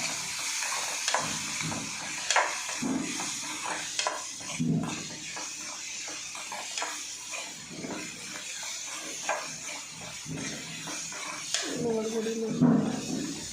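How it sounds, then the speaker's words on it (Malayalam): Onions being sautéed for chutney in a pan after salting, a soft continuous sizzle with repeated stirring scrapes, partly under a voice talking. "അത്യാവശ്യം ഉപ്പിട്ടതിന് ശേഷം വീണ്ടും അത് വഴറ്റി കൊടുക്കുക."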